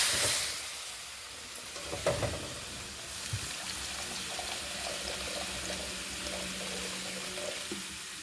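Water poured into a pan of frying Assamese fish curry with narasingha (curry) leaves and spices, a steady running pour with faint sizzling underneath and a brief clatter near the start, close and moderately loud.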